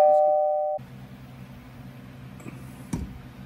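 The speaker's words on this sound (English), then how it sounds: "I did find a doorbell sound to cover your cussing." Two-tone electronic doorbell chime rings out loud and steady for under a second, dubbed in over a lift kit install, then cuts to quiet shop background.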